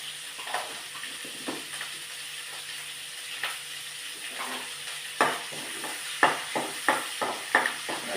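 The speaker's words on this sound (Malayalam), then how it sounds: "ഇനി ഞാൻ ആ വറുത്ത എണ്ണയിലേക്ക് തന്നെ കടലിടുകയാണേ" Chickpeas fry in hot sesame oil, giving a steady sizzle broken by scattered sharp pops and stirring clicks that grow more frequent near the end.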